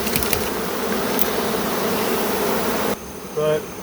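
A honeybee swarm in July buzzes densely and continuously nearby, then the hum drops away abruptly, leaving a brief fainter tonal buzz near the end.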